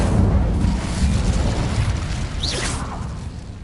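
The Incendio fire spell in Hogwarts Legacy is cast with a fiery whoosh and a booming burst over low rumbling, close and fairly loud.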